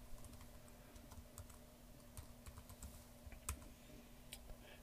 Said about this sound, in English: you'll have to excuse the speed of my typing.